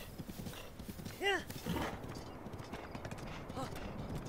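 Galloping hooves and a short neigh from a horse in Breath of the Wild, the whinny standing out briefly amid ongoing hoofbeats and game sounds.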